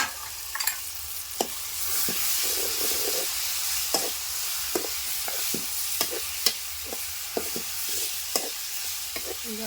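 Diced potato and brinjal fry in a pan under a constant soft sizzle, punctuated by irregular sharp clicks and scrapes of a spoon stirring against the metal.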